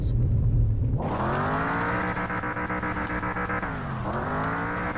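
A small engine cranks over and catches about a second in, then holds a steady, loud revving drone with a brief dip in pitch near the end; no talking is heard over it.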